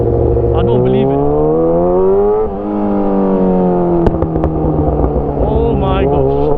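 A Kawasaki ZX6R sport bike fitted with a loud SC Project CRT exhaust revs hard and close, its engine note climbing and dropping through several throttle blips with a steady, raspy roar throughout.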